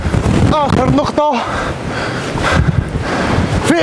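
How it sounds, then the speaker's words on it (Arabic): Strong seaside wind at Africa's southern tip buffets the microphone with a constant rushing roar. Surf sounds underneath, and a person speaks briefly near the start. "شنو اليوم الريح بزاف"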